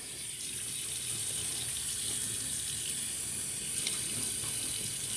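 Water runs steadily from a sink tap while a face is wetted for shaving, a close, continuous splashing stream with faint shifts as hands move through it, no speech.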